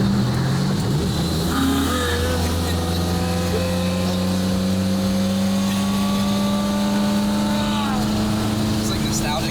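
A Ferrari with a manual clutch drives along, its engine droning steadily with rising harmonic tones as it pulls through the gears, loud and close throughout, with people talking over it.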